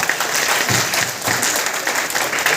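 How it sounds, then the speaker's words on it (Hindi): A crowd at a Keva company leaders' gathering gives loud applause for senior leaders, a thick continuous wash of clapping with a few heavier thumps, sustained for about two and a half seconds. "मैं चाहता हूँ अपने सीनियर लोगों के लिए ताली बहुत जोर से"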